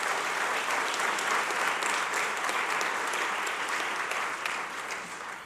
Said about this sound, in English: Please, big, big round of applause for the Civil Service Commission